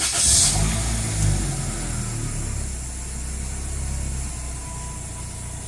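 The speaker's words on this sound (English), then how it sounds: "this is a 2000 Celica GTS 2ZZ motor, and I'm going to do a cold startup." A 2000 Toyota Celica GTS with the 2ZZ engine cold-starts with a short crank and catch, then settles into a steady, slightly uneven high idle, close and alone with no talk.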